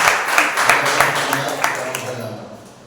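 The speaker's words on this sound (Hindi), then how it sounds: "जोरदार एक ताली बजाइए" Congregation clapping at a Sunday church service, a lively round of applause that gradually fades out, heard beneath a voice.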